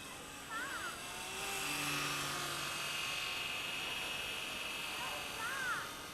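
A radio-controlled scale SA315B helicopter, built from a 230S kit with a lengthened tail, whines steadily as it cruises overhead, its high rotor and motor tone swelling and fading with passes.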